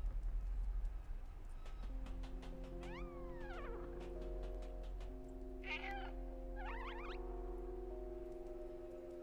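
A cat meows a few times in the video game Stray, short rising and falling calls over a steady low hum and sustained electronic tones.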